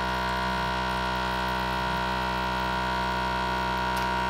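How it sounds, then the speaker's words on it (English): A vacuum pump runs with a steady, even electric motor hum as it pulls tincture through filter paper in a Buchner funnel down into a flask. The drone is continuous and unchanging, with no voices. "the vacuum pulls the tincture right through and down into the flask"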